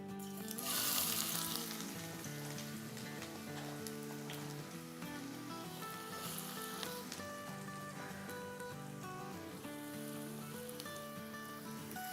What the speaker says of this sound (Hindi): ये तेल हमारा गर्म हो गया है, इसको हम डाल देते हैं।